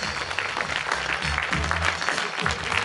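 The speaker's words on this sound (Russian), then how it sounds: "Аплодисменты, дорогие друзья, за теплые, прекрасные пожелания." Loud, continuous applause from an audience at a jubilee birthday celebration, a dense steady patter of clapping hands lasting throughout with no pauses.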